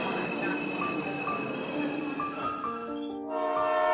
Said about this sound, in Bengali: এমন সময় বিধুয়াডাঙ্গা স্টেশনে ট্রেন এসে পৌঁছালো।